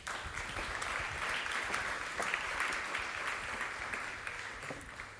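Sustained applause from a conference audience at a talk on European internet politics, dense steady clapping filling the room for several seconds and tapering slightly at the end, with no speech over it.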